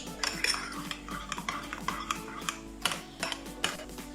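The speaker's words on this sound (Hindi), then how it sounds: "सब्ज़ चटनी फ्रेश तैयार करके डाल रहे हैं। इसको मिक्स कर देना अच्छे से।" Fresh green chutney being stirred into raita with a utensil, producing repeated close clinks and scrapes against the bowl in an irregular stirring rhythm, moderately loud with no talking.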